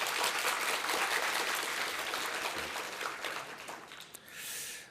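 Loud, dense audience applause at a PyCon Korea 2019 lightning talk session, many hands clapping steadily and then fading away into a brief softer rush at the end.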